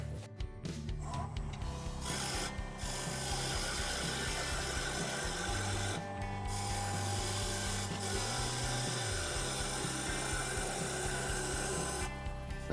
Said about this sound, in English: Now I'm going to use my bowl gouge just to true up the top of this bowl